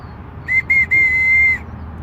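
A handmade whistle blown at a lakeside: two short blasts followed by one long, steady shrill tone, loud and clear over a low outdoor background rumble, with no voices.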